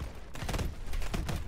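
Rapid bursts of gunfire from the video game Call of Duty: Advanced Warfare crackle in quick, clustered shots over a short stretch at moderate volume.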